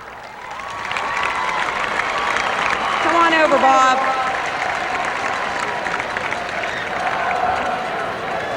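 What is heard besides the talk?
stadium crowd applauding at a football game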